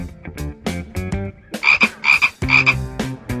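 A frog croaks loudly and close, a series of rough, throaty calls in uneven bursts with some higher trilling notes, alone without talking.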